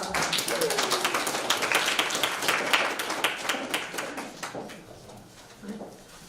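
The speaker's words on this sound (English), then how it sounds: "So, welcome, applause for our Eva" Audience applause welcoming a speaker at a conference talk, a dense wash of clapping that gradually thins and fades, with faint voices beneath it toward the end.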